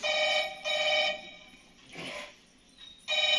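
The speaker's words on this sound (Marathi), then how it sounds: "फोन आला." A phone rings in a home, loud repeated electronic ring bursts with brief gaps between them, heard alone.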